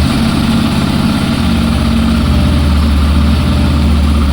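A Yamaha FZ-S V4 Hybrid motorcycle engine idles steadily up close, a loud continuous low rumble with a steady putter and no voices.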